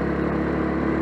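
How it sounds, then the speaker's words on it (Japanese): A small single-cylinder Yamaha Axis Treet 125cc scooter engine putters steadily at a constant idle-like pace, close and even, with no voices. "単気筒バイクのね、エンジンの音すごくね、心地よい感じでね、聞こえますでしょうかね"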